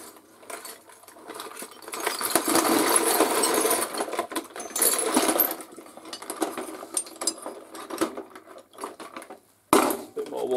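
A heap of oily, rusty car-part nuts and bolts is tipped into a container, a long metallic rattling clatter that tails off, with a final clunk at the end.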